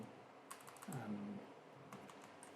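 Keys tap on a computer keyboard while text is entered in SketchUp, a few soft, quiet clicks in two brief bursts with a low hum between them and no voices.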